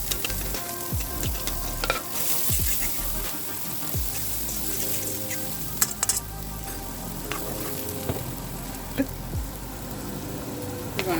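An omelette sizzles in one pan while green onions fry in another, a steady crackling hiss throughout, with occasional utensil scrapes and clinks close by.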